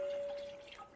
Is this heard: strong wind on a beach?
no